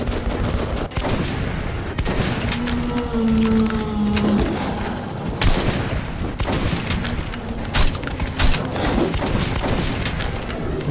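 Gunfire in the post-apocalyptic shooter game Metro: Last Light, dense bursts and crashing shots over about eleven seconds of steady loud combat din with a droning tone underneath.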